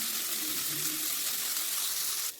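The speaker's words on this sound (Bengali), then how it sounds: "এবার আমি এই বাটিতে 1 বাটি মতো জল ডালে দিয়ে দিলাম।" Water poured from a bowl into a pot of lightly fried masoor dal with sem beans, a steady close splashing gush that runs the whole stretch and stops abruptly at the end.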